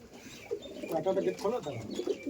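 Old Giribaz pigeons coo in a loft, soft throaty calls repeating close by, with someone talking over them.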